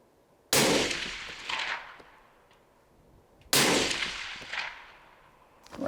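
A Christensen Arms rifle fired at a target: two loud, sharp reports about three seconds apart, each trailing off in a long echoing decay, with no talking.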